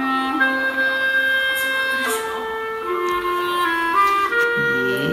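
A clarinet plays a slow melody of smooth held notes that step between pitches, solo and unaccompanied, with no voices.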